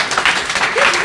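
A crowd applauds a 100-year-old woman at a live celebration in Florac, with dense, steady clapping that stays loud and close for the whole moment.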